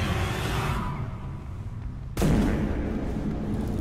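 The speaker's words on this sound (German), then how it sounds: "Die Artillerie hat ihn optisch abgelenkt und meine Kanone beendet ihn." A tank cannon and artillery fire in War Thunder ground battle: a sustained rumbling barrage fades, then one sharp, loud cannon blast cracks out near the middle and leaves a heavy rolling echo.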